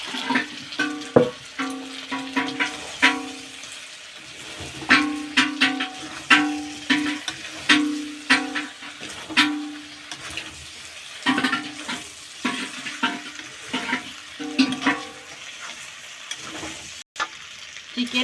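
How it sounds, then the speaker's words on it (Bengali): Chicken with fried potato and young jackfruit is stir-fried in a pan, a steady sizzle broken by repeated scraping and clattering strokes of the spatula throughout, close and fairly loud with no talk. "ভেজে রাখা আলু এঁচোড় দিয়ে আরেকটু ভালো করে কষিয়ে নেব।"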